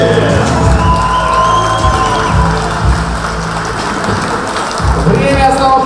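A crowd at an MMA event claps and cheers steadily at close range, with noisy hand applause filling the whole stretch and a few voices rising above it.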